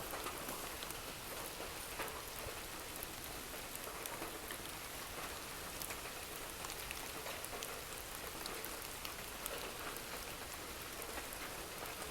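Rain falls steadily over a durian planting site, a soft, even, continuous hiss of drops on leaves and ground at a distance, with no talk over it.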